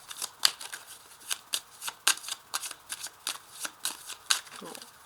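Tarot cards shuffled and handled by hand, a run of crisp riffling bursts and soft slaps spaced about half a second apart, close and fairly quiet, with no talking.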